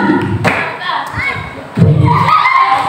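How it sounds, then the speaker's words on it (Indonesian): Children play the 'mosquito clap' hand-clapping game in a school setting. A few sharp slaps and thuds land between instructions called out by an adult. "Tepuk tangan nyamuk. Nyamuk kanan."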